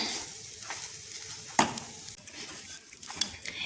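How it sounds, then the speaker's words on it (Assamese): Grated coconut dry-frying in a pan for coconut laddu while being stirred, with a soft continuous sizzle under spatula scrapes and a few sharper clacks against the pan. "মই নাৰিকলখিনি ভাজি লৈছো এনেকে অকনমান দেৰি ভাজি থাকো মই"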